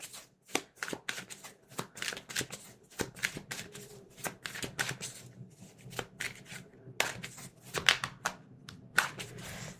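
A tarot card deck shuffled by hand, close and crisp, with rapid riffling bursts and slaps repeating steadily, no talk.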